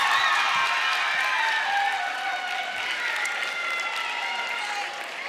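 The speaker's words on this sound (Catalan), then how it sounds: "Fort aplaudiment per la Bet." An audience gives sustained applause for a speaker at a Catalan-language event, a dense even wash of clapping with faint voices underneath.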